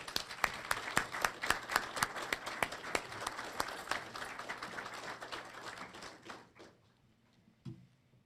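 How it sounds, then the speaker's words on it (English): An audience applauding at a correctional academy graduation, a few distinct close claps over a broader crowd patter that thins and fades to quiet, with a soft bump near the end. "Please join me in a round of applause"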